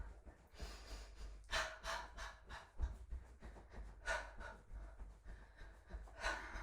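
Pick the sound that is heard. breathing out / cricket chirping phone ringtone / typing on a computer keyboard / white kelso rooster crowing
breathing out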